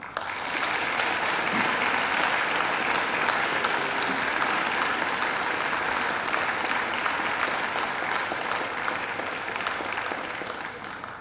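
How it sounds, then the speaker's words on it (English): Sustained applause from a large graduation ceremony audience in a university auditorium, steady and dense for the whole stretch, with no pause in the clapping. "I'm sure you'd like to give them a round of applause as well"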